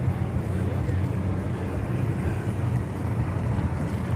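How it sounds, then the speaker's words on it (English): Ferocious gusting wind buffeting the microphone outdoors at a car show, producing a constant loud low rumble and roar that fills the clip. "Probably the worst we've ever seen here. Just ferocious wind."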